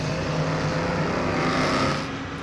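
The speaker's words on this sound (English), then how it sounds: "Beautiful sound these cars making, the mixtures of 6-cylinder engines," Superstock race cars with a mix of 6-cylinder and 4-cylinder engines roar loudly and continuously at a night Grand Prix meeting in Wanganui, New Zealand, a dense blend of engine drone filling the whole stretch.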